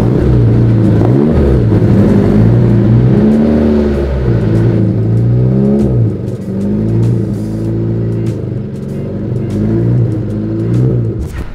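A 1971 Lotus Europa's engine revs hard as the car pulls away, a loud, close growl that climbs and drops through several gear changes before easing into a steadier cruising drone.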